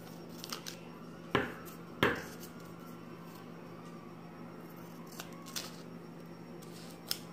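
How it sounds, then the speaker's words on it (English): Two sharp snips of scissors close together, followed by a few faint clicks over a low steady hum. "you can always take your scissors and you can cut that piece off"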